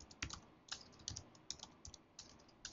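Keys clacking on a computer keyboard while working in the vi text editor, short irregular bursts of close, quiet keystrokes with brief pauses between them.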